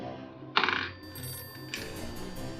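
A phone ringtone signals an incoming call during a Halloween makeup session indoors, a bright chiming ring bursting in clearly, fading, then sounding again over a low steady background.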